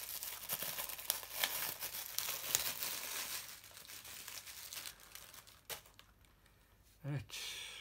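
Crinkling plastic wrap and rustling packaging from unboxing a William Optics ZenithStar73 refractor telescope, close and busy with irregular crackles, with a brief voice near the end.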